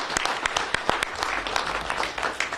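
An audience at a press briefing on veterans' housing in Los Angeles applauds, a short, brisk burst of close, crisp hand claps with uneven accents and no voices, lasting a couple of seconds.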